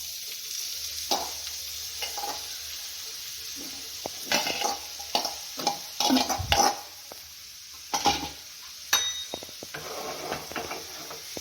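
Shredded cabbage sautéed with coriander powder, red chilli and cumin in a pan: a soft continuous sizzle with irregular spatula scrapes and clinks against the pan, close but fairly quiet.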